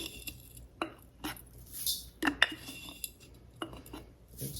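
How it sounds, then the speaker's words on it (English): Dried black walnut hulls are scooped and tipped into a cup, making a series of sharp, close clatters and scrapes in an irregular rhythm, fairly quiet with a faint hum between hits. "Now we're going to add Black Walnut Hulls."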